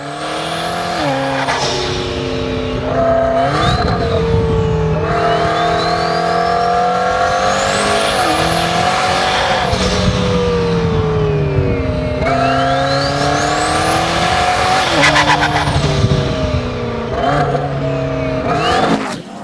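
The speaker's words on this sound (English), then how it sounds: "this is the best sounding car I've ever been in" A 1200 HP triple-turbo McLaren accelerating hard from inside the cabin, loud engine revs climbing and dropping through repeated gear pulls with tire squeal, a close, continuous roar.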